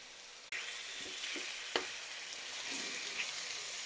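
Fish pieces sizzling and frying in a pan of onion, green chilli, curry leaf and spiced masala, a steady loud crackling hiss with a few stirring knocks and clinks.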